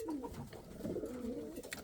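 A feather-footed Indian fantail pigeon coos nearby in soft, repeated throaty phrases, quiet and unbroken by speech.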